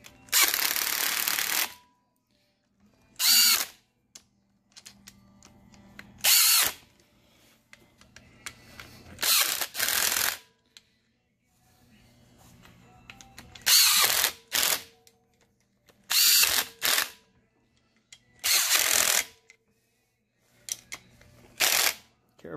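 A Makita 18 volt cordless driver runs bolts down on a Polaris Ranger 800 bottom end, firing in several short loud ratcheting bursts separated by quieter pauses.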